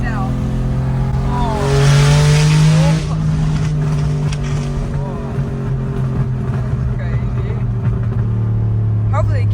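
An RWB Porsche 993 roars loudly from inside the cabin while driving, a steady heavy engine drone that surges briefly higher, with a person talking over it.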